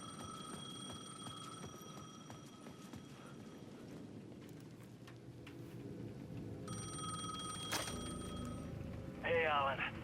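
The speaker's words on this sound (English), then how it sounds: "The payphone at the edge of the plaza was ringing again." A payphone at the edge of a plaza rings repeatedly in Alan Wake 2, steady electronic ring tones over footsteps and ambient game sounds, with a brief chirping burst near the end.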